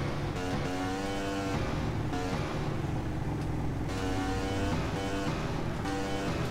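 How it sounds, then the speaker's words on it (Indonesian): Engines of a motorcycle gang in the video game GTA San Andreas drone steadily with shifting revs, a dense continuous roar with no speech. "kalau geng motor Upin lewat, gak ada yang di jalan"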